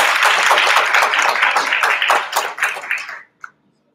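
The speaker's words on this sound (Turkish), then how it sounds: "Güzel alkışlar sevgili Merve." An audience claps for a speaker at a teachers' club event, dense applause that stays steady for about three seconds before thinning to a few scattered claps and stopping.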